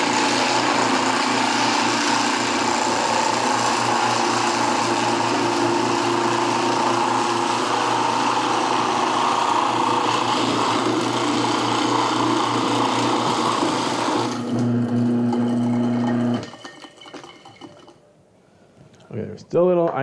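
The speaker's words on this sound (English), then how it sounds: "I am spinning my bowl as I'm shaving the ice so that it goes into all different parts of the bowl." Ice shaver machine grinding ice into a spinning bowl to make a summer treat, a loud continuous buzzing whir that runs steadily and then cuts off near the end, followed by a few quieter handling sounds.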